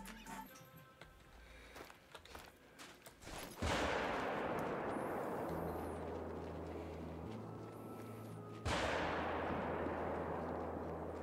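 Rifle shots ring out at red deer in a hunting video game: two separate loud cracks, several seconds apart, each trailing off into a long echoing tail over a quiet outdoor background.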